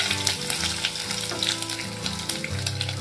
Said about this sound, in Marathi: राई बाहेर उडू नये गॅसवर म्हणून मी ताट पकडले।